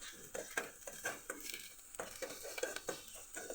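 Onion and garlic sauteing in a pan, a quiet sizzle broken by repeated rhythmic spatula scrapes and stirring strokes, fairly close, with no speech.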